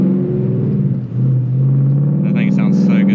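A Ford Mustang GT (S550) engine drones loudly from inside the moving car, a deep steady rumble that rises slightly in pitch, with people talking over it toward the end.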